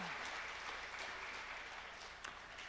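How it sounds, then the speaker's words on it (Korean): Congregation at a special early-morning revival service gives continuous, even applause throughout, a dense wash of clapping that stays loud from start to finish. "하나님께 영광의 박수 올리겠습니다"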